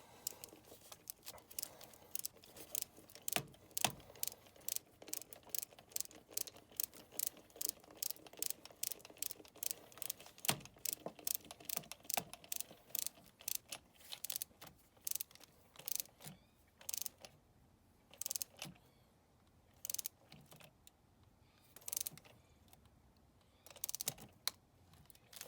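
A torque wrench tightens valve cover bolts on a Mazda CX-7 during a valve cover gasket replacement, making a long series of sharp, rapid clicks in steady bursts, close and fairly quiet, with no talking.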